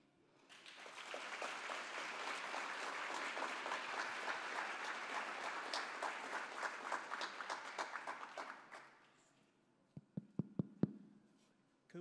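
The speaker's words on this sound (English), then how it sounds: "Could we have one more round of applause for Mayor Janet Cowell, please?" An audience applauds Mayor Janet Cowell, a full round of clapping rising quickly and holding for about eight seconds before fading, followed by a few scattered louder claps.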